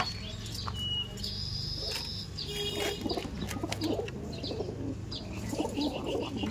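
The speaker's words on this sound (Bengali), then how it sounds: "দেখুন পায়রা দেখুন, এই যে ছিল কালদম পেয়ারটা" Kaldam pigeons cooing in a loft, soft throaty coos mixed with wing flaps and scattered bird calls, close by, with faint voices in the background.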